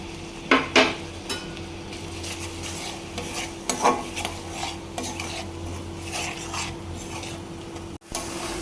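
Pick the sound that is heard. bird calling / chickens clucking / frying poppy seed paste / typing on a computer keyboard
frying poppy seed paste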